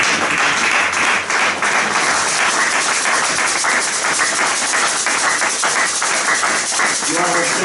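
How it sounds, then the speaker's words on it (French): A church congregation applauds for the youth, a dense, steady wash of clapping filling the room with mixed voices throughout and no clear pauses. "Est-ce que l'église peut acclamer pour la jeunesse?"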